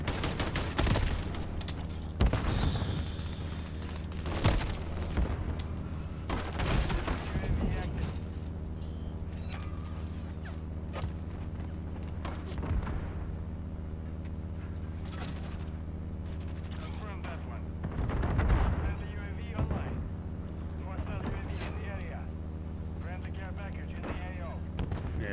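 Gunfire rattles in the video game Call of Duty Modern Warfare 3 as repeated sharp bursts and booms over a steady in-game background hum, with a player's voice talking over them.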